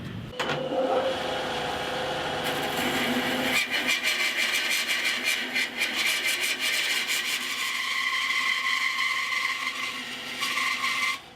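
A hand-sharpened blade works through wood while shaping a guitar bridge, making close, steady rasping strokes that repeat in a rapid rhythm for several seconds and then continue more intermittently.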